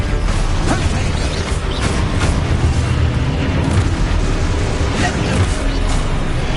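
Loud, dense magical blasts and booming eruptions from an Expulso spell in Hogwarts Legacy, rumbling continuously with repeated bursts and crashes throughout, close and heavy.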